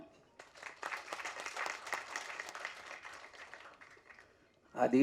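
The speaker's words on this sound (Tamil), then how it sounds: "பயங்கரமான மிகுந்த கரகோஷத்தை கொடுத்ததுக்கு நன்றி" An audience applauds a film producer at an event, a fairly faint, even patter of many hands that fades after about four seconds, followed by a voice starting to speak.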